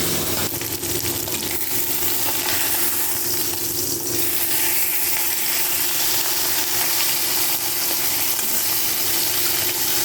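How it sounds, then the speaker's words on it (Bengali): Bata fish fry in oil, browning to a reddish colour, with a dense, continuous sizzle and crackle that stays close and loud for the full ten seconds. "মাছগুলো লাল লাল করে ভেজে তুলে মাছগুলো ভেজে তুলে নিয়ে"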